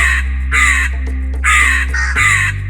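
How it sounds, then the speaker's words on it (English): A house crow caws loudly and close, giving about four harsh, drawn-out calls in a row over a steady low hum. "That is the house crow."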